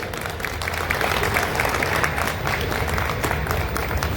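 An audience at a poetry recital during the Pandokhar Dham festival claps steadily. The dense, even applause fills the whole stretch at constant strength.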